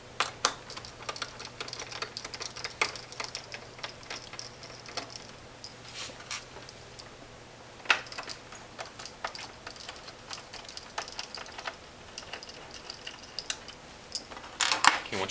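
A Phillips screwdriver works the screws on a Fujitsu fi-5750C scanner, with faint, irregular clicks and small metallic ticks scattered over a quiet background and no speech.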